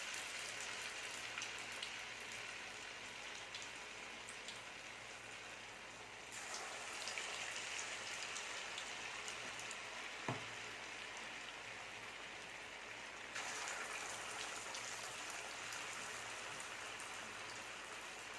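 Tapioca (maravalli kizhangu) vadai frying in hot oil gives a steady, soft crackling hiss that runs throughout, dropping briefly to a quieter patch before swelling again, with one sharp tap near the middle.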